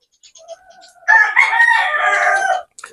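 A Maclean Hatch gamefowl rooster gives a single full crow, loud and close, preceded by a few soft clucks, with no talking.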